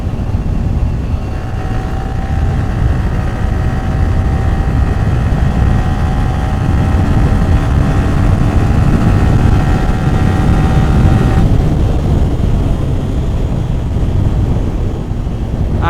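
Yamaha R15 V3 motorcycle engine while riding on a slightly bumpy road at part throttle, a steady close drone mixed with strong wind rush over the microphone, with a whining tone that holds and then drops away near the end.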